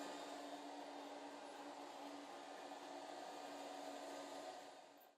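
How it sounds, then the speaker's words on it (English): An ILIFE V3s Pro robotic vacuum runs with a steady, fairly quiet broadband whir and a constant low hum, close by and unbroken, fading out at the very end. "this one is slightly quieter than Roomba,"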